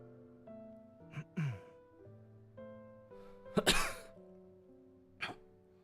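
A male character in the video game Love and Deepspace coughs gently, a soft breathy cough and throat-clearing heard close up over a layer of quiet, sustained background music.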